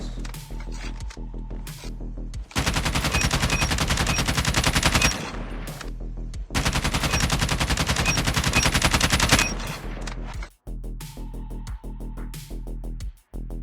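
Assault rifle fire in COD Mobile practice mode: two long, loud, continuous automatic bursts of rapid shots, each lasting several seconds, separated and framed by quieter game ambience and brief pauses.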